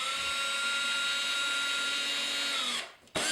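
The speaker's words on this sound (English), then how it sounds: "Being careful with the drill, we line it up and create our hole." A power drill bores a pilot hole, a steady high whine running close and loud for about three seconds before cutting off abruptly.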